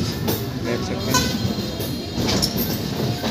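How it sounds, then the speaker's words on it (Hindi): A train at Danapur railway station, heard as a loud, continuous station rumble and rail noise with scattered clanks, while someone talks over it. "ये दानापुर रेलवे स्टेशन का आप लोग का सीन है, देख सकते हैं।"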